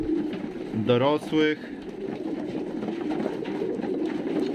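A pigeon in a loft gives a short, close cooing call, with someone speaking over a steady background hum.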